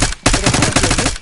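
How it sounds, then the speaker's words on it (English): Rapid automatic gunfire in Call of Duty Black Ops 6 crackles in a loud, close burst of quick repeated shots after a brief lull. "We got gunfire ahead."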